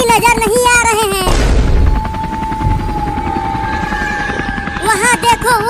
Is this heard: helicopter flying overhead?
yes